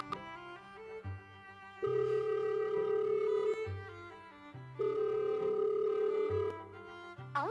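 A telephone call rings unanswered with a melodic ringtone, fairly loud and close, repeating its pattern of tones without pause, and no one speaking.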